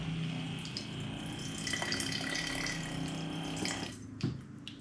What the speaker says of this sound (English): And it starts dispensing water.